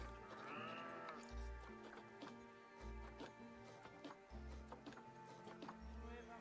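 Sheep bleating in the zoo-management video game Planet Zoo on a barnyard farm, a few repeated bleats over steady game music and ambient background, moderately loud throughout.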